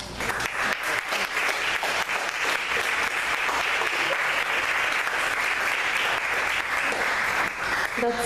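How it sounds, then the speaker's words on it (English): Warm, continuous clapping from an audience at a poetry book unveiling, full and even from start to finish with no talking over it. "That's too much applause."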